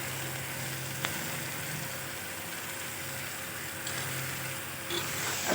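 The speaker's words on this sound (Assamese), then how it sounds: "আৰু অকণমান বেছি টাইমত 2 মিনিট ভাজি ল'ম" Vegetables fry in a pan for an Assamese veg thali, giving a soft, continuous sizzle at low volume with a faint click and a few brief stirring scrapes near the end.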